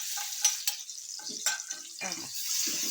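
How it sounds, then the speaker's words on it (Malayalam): Onions hit hot coconut oil for a dal tempering, giving a bright close sizzle with a few sharp pops and stirring scrapes, while short murmurs of voice sit low beneath. "അതിലേക്ക് ഞാനത് ഉള്ളി ചേർത്ത് കൊടുക്കുന്നുണ്ട് നമുക്ക് കുത്തി കാച്ചാനായിട്ട്"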